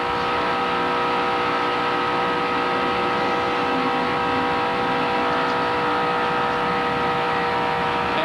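A race car engine at full throttle screams at high revs throughout, a steady loud whine with no pause, close and dominant, on the Talladega Superspeedway oval during a 1995 ARCA series race.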